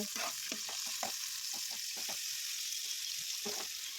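Whole cumin and chopped onion frying in hot mustard oil, a steady sizzle with soft stirring scrapes now and then, close by with no talk.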